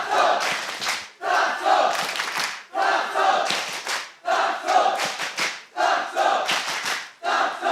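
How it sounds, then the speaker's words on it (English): Esports arena crowd at a VALORANT VCT EMEA match chanting and cheering in loud rhythmic bursts, repeated surges of massed voices separated by short pauses. "The crowd digging deep now to get behind Gentlemates."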